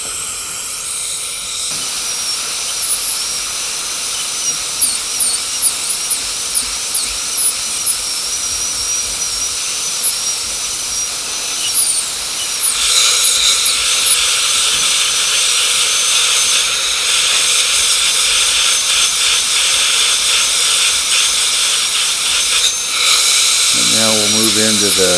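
A dental drill's high-pitched burr whines steadily as it cuts a tooth during a full zirconia crown prep with a rounded shoulder, the burr slightly dull, with brief pauses and shifts in pitch and a low-frequency rumble near the end.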